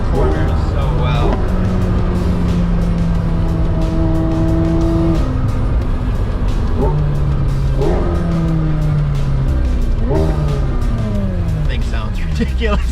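McLaren 750S Spider engine blipping and barking through a series of downshifts, loud and close with falling and rising revs and tire noise, while a person talks over it.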